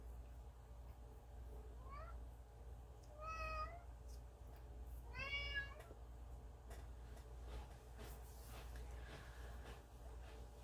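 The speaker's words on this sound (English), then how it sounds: "What do you want, baby cat?" A cat gives three rising meows, each a little longer than the last, quiet and fairly close against a low steady hum in a Canadian wilderness cabin, with no talk.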